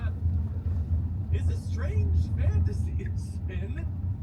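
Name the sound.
car accelerating on DJI driving assistance test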